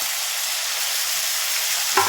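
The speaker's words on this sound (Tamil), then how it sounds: "எல்லாம் போட்டு நல்லா பச்சை வாசனை போகிற வரைக்கும் நல்லா வதக்கிக்கணும்" Ginger garlic paste and ground tomato paste sautéing in a pan for vadacurry, a dense continuous sizzle with a short utensil clink at the very end.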